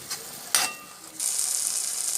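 Tomatoes sauté in hot oil for sundakkai kulambu: a couple of utensil clunks, then a steady, close hiss of sizzling.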